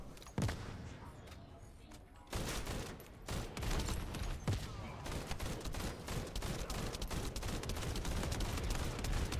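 Tactical rifle fire in the shooter game The First Descendant, with sharp single shots at first, then a long stretch of sustained rapid automatic fire with mixed impacts, steady and dense throughout.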